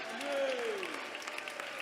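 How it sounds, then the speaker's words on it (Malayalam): A congregation claps hands at an IPC Pentecostal prayer centre service, a brief wash of close applause with a voice rising above it. "കൈയടിച്ച് ഉറക്കെ സ്തോത്രം പറ"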